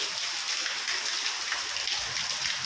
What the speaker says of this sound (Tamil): மழை பெய்யுதா பாருங்கள்